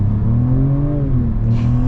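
The inline-six engine of a 2023 Jaguar F-Pace R-Dynamic S revs loud and close, its tone rising briefly and then settling back into a steady drone.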